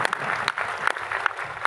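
Audience applause at a paint company training session, a dense crowd clapping steadily with sharp claps standing out over about two seconds, fairly close and moderately loud.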